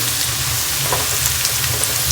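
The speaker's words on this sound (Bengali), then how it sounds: "সবজিগুলো ভাজা ভাজা হয়ে গেছে" Vegetables frying in a pan, a steady close hiss of sizzling oil running unbroken throughout with no voices.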